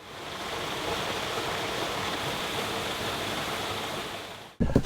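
Steady broadband rush of stream water flowing past a turning water wheel that drives a butter churn, continuous and fairly loud throughout, cutting off abruptly near the end with a brief clatter.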